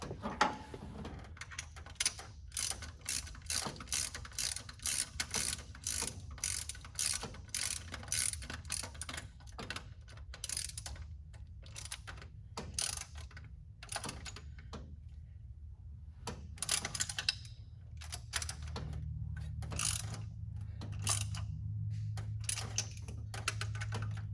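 A ratchet tightens carburetor bolts on a 1979 Ford F150, with bursts of close, rapid clicking that stop and start repeatedly over a low background hum.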